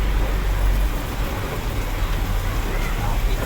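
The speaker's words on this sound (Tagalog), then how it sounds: "Bilakas na ulan." Heavy rain pours down steadily, a dense, loud, unbroken hiss with deep rumbling underneath, heard close and alone.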